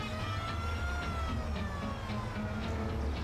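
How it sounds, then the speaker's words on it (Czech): A police car in the video game Mafia sounds an odd, steady siren with a wailing tone over an engine's low rumble, loud and continuous throughout. "A má to divnou sirénu, fakt to slyšíte taky."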